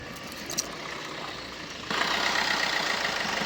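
A 2018 Maruti Suzuki Ertiga VDI SHVS diesel engine idles with the hood open, giving a faint, steady low hum that grows a little louder and brighter partway through.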